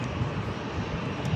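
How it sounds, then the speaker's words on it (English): An airplane roars overhead on approach to the LAX runway near a park, a loud, steady engine rush filling the whole moment without any pause. "it's actually the runway where the planes land"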